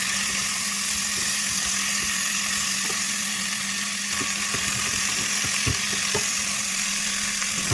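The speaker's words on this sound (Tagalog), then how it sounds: "Ayan, nagmamantika ng ating chicken." Chicken fries in oil in a pan for a coconut-milk curry chicken, a loud, unbroken sizzle at close range with an even hiss and occasional light spatters and stirring clicks, nobody speaking.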